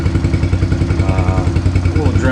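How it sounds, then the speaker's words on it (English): A Kawasaki KLX110R or Yamaha TTR110 pit bike with a stock exhaust idles and runs steadily nearby, giving a loud, rapid, chugging single-cylinder putter while someone talks over it. "Don't sound too bad for a stock exhaust"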